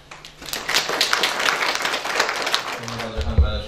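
Audience at a book launch applauding the book's editor, a dense, steady patter of many hands clapping close by, continuing for several seconds with some voices underneath.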